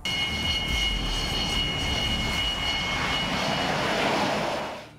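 A twin-turbofan fighter jet engine roars loudly and steadily, with a high whining tone over broad rushing noise that fades out at the end.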